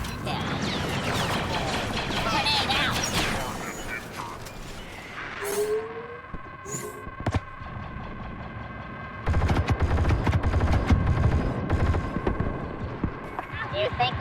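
Turret gunfire from the Geonosis battle in Star Wars Battlefront II (2017) mixed with dense battle noise and voices, bursts swelling loud in the final seconds.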